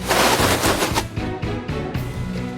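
Gunfire in the video game Grand Kingdom: a loud, rapid burst of automatic shots in quick rhythmic succession, heard alone without speech.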